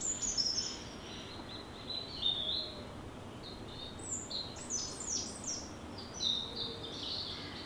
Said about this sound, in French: c'est le royaume des oiseaux.